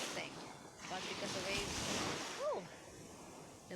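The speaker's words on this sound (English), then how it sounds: "the waves are so big" Big ocean surf rolls onto a wide, gently shelving beach in Baler, the surfing capital of Luzon, in drizzly weather, a steady broadband wash with wind buffeting the microphone and a few short voiced sounds.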